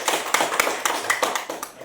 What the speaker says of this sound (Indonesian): Berikan tepuk tangan kepada Agus ya.